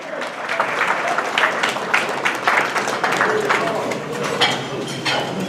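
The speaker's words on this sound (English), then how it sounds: "Clap up for yourself." A seated audience of men claps for themselves at a motivational talk, dense steady applause with a few scattered cheers, fairly close and loud, with voices mixed in.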